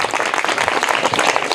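Classroom audience of schoolchildren clapping loudly for a student's correct quiz answer, a dense continuous burst of applause.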